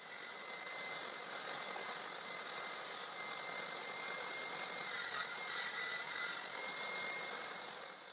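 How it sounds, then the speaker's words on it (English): A saw rips wooden boards lengthwise for a splined-miter box, giving a steady, loud whine with a constant high tone that holds for the whole stretch, with no talking. "Now I rip both pieces so they are slightly narrower than half the width of the pieces."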